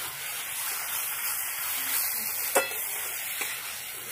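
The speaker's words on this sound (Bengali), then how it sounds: "মশলাটা ভালো করে কষিয়ে নেব, সর্ষে লঙ্কা বাটাটা।" Mustard and green chili paste fries in a pan with a constant soft sizzle and a couple of sharp spoon knocks against the pan, nearby and fairly faint.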